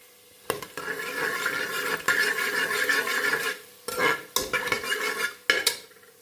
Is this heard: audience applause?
no